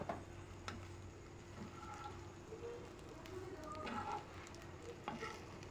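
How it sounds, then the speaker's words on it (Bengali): Grated cheese being stirred into pasta in a pan: a quiet, continuous scrape-and-rustle of stirring with soft clicks of the utensil, over a low steady background hum. "এখন নেড়েচেড়ে চিজটা পাস্তার সাথে মিশিয়ে দিব।"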